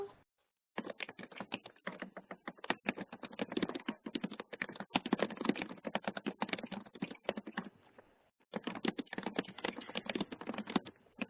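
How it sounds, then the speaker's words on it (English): Dense, rapid computer keyboard typing from several people in a virtual session, close and continuous with a brief pause near the end before the clatter resumes, no voices. "I love the sound of the clicking."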